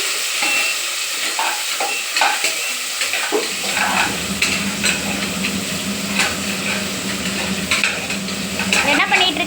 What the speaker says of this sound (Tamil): வெங்காயம் வதக்கிட்டு இருக்கோம்